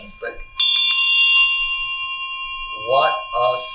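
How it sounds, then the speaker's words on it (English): Old hand bell struck a couple of times, bright clear tones ringing out and sustaining for seconds, with a person talking briefly before and over the fading ring. "I want you to hear this bell"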